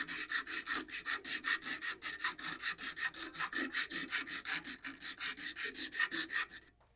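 Coarse 80-grit sandpaper rubbed by hand on a wooden spoon, a steady series of about thirty rhythmic, raspy back-and-forth strokes, close and loud, with no talking.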